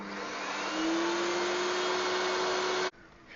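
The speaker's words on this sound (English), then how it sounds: "I will put my vacuum cleaner on the lowest setting and then start it." A household vacuum cleaner set to its lowest power starts up, its motor whine rising in pitch and then holding a steady drone for about two seconds before cutting off abruptly.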